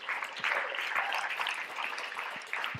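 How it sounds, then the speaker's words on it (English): Applause from a crowd at an IAM Talks panel event, a steady mid-level wash of clapping lasting the whole stretch with a few sharper individual claps standing out. "Please, crowd, big applause for these amazing people here."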